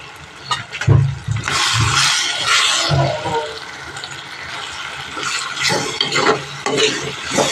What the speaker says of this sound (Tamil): இப்போ இந்த முட்டையை நல்லா கிளறி கொடுத்துக்குவோம்